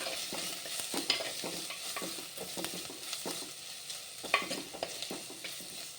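Ginger and garlic sauté in a pan for prawn biryani, with a soft sizzle under repeated spoon scrapes and clinks, fairly quiet and up close.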